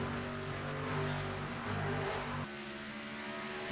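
Race cars at Pocono in a sim racing video game drone steadily at high revs, then the engine note drops suddenly as the field passes, a continuous mechanical hum with no voices.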